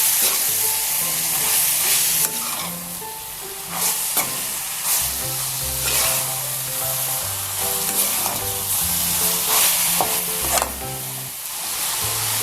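Okra (bhindi) fries and is mixed with spices in a pan, with a continuous loud sizzle and repeated stirring scrapes over about twelve seconds, while melodic background music plays underneath.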